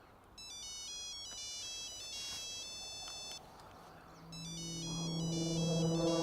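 A phone rings in bursts of bright electronic melody, pausing briefly in between, with a fainter hum and background sound rising toward the end.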